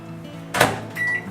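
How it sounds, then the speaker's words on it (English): A microwave oven heating a small portion of gelatin for a mousse cake, a soft low hum followed by a sharp clunk of the door or button and then a faint electronic tone, close by with no talking. "Now I'm going to go ahead and microwave the gelatin here for 10 seconds."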